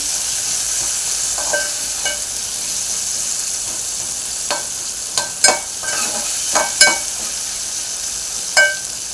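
Potatoes for sabudana khichdi cook in a pan with a continuous bright sizzle, broken by several sharp stirring scrapes and clinks of a spoon against the pan, close and fairly loud throughout.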